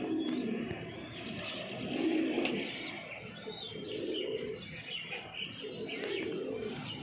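A male pigeon with a leg ring, a black-green bird with rings around the eyes, coos in soft repeated throaty rolls nearby, alongside a few brief chirps.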